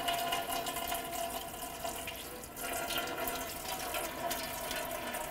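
Coolant drains in a steady, faint stream from a 2011-2015 Chevy Cruze with the reservoir cap removed, a continuous trickling wash of liquid with no talk over it.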